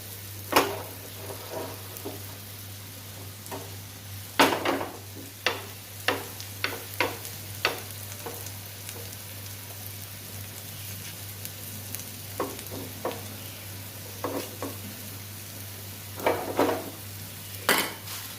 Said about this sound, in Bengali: আর আমি একটা একটা করে ভেজে নেব।